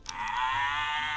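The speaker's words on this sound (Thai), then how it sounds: "วัว" A single long, steady cow moo, drawn out and fairly loud, with no talking around it.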